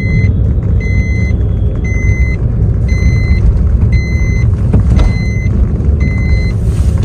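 Car driving slowly through city traffic with light acceleration over a speed breaker, a loud steady engine and road rumble heard from inside, with repeated beeping in the background.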